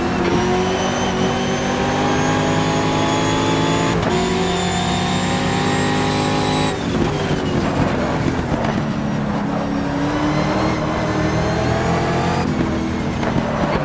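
Race car engines roar continuously through a GTR 2 video game race, steady loud revving with gear shifts and several cars close together, sustained throughout.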